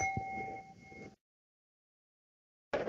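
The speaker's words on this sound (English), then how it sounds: "I hear the bell, so I need to hurry up." A bell tone rings as a time warning during a conference presentation, a steady sustained chime lasting about a second, then silence before another sound starts at the end.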